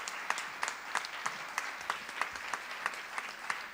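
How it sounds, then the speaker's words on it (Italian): Applause for two performers at a Women's Day words-and-music stage event, a steady patter of many hands with a few sharp, prominent claps standing out in a loose rhythm. "Ancora di nuovo un grande applauso per Caterina Di Napoli e Adelaide Busolo"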